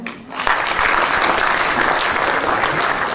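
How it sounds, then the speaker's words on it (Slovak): A big round of applause fills a sports awards ceremony honoring athletes, rising sharply after a brief quieter start and then holding as dense, steady clapping from a sizeable audience. "Jeden veľký potlesk."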